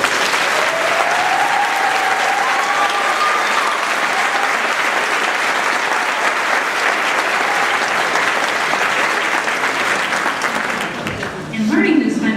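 A school concert audience gives loud, sustained applause for the beginning band's flute section, a dense wash of clapping that holds steady before tapering near the end as a voice begins.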